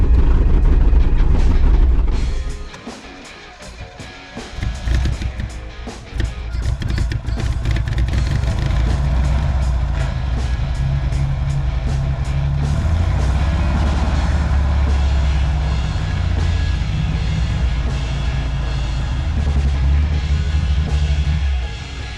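An old International Scout engine, sitting unused for 17 years, runs with a rough, steady rumble and clatter. A loud burst comes first, then a brief dip, then a continuous close idle that lasts throughout.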